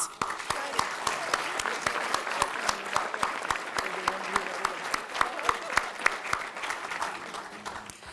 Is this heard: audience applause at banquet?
yes